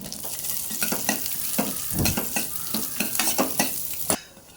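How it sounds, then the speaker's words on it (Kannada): Dates and raisins frying together in a pan for vermicelli payasam, steady sizzling close by with a spoon stirring and scraping in repeated strokes, no talking. "ಡೇಟ್ಸ್ ಉತ್ತುತ್ತಿ ನಂತರ ಒಂದು ಸ್ವಲ್ಪ ಒಣ ದ್ರಾಕ್ಷಿಯನ್ನು ಎಲ್ಲವನ್ನು ಒಟ್ಟಿಗೆ ಚೆನ್ನಾಗಿ ಫ್ರೈ ಮಾಡ್ಕೋಬೇಕು"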